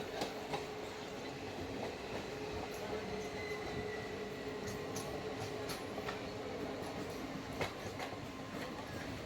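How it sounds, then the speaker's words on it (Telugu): A MEMU train on the Secunderabad to Warangal line rolls into Raghunathpalli station with a steady rumble and rhythmic wheel clatter, sharp clicks and light squeals running throughout. "రఘునాథ్పల్లి దగ్గరికి అయితే వచ్చేసింది ట్రైన్"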